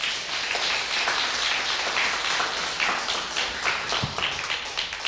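Children at a church debate championship receive applause from the audience, a steady dense wash of clapping throughout, fairly loud and close, with no speech over it.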